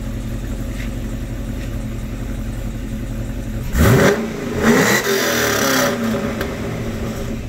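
A Pontiac G8 with a freshly installed OBX exhaust idles with a steady low rumble, then revs hard twice in quick succession, the engine note climbing and settling back, loud and close with no talk.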